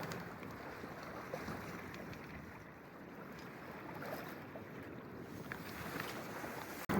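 A sailboat drifting along under its jib on a calm day at sea, giving a steady low wash of water and wind rumble throughout with no voices and no distinct events.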